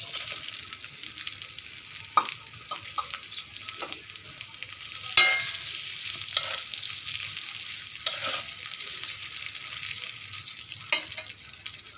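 Onion and green chilli sizzle and fry steadily in an oiled pan just used for frying fish, a bright continuous crackle with a few sharp stirring clatters.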